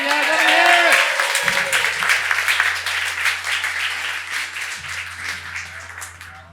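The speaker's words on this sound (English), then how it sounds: "Round of applause for him, guys." A comedy club audience applauds and cheers for a comedian, loud dense clapping that slowly tapers while a voice speaks over the start.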